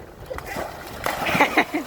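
Water sloshes and splashes in a small homemade swimming pool as a person jumps in, with voices talking and shouting over the short splashing bursts.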